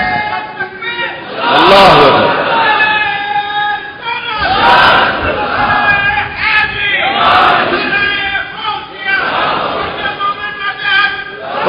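A crowd at a religious gathering shouts slogans in loud, rhythmic bursts, several swelling chants rising and falling in turn, with voices overlapping close by.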